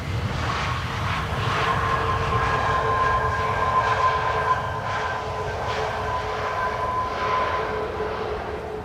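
A TAP Portugal airliner landing on the Polderbaan runway at Schiphol, its steady engine roar with whining tonal hum holding loud and continuous, no voices over it.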